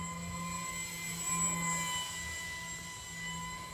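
A Multiplex J10 RC jet plane whines past with a steady, fairly faint electric-fan hum and tones that hold level throughout, heard from a distance outdoors with no talking.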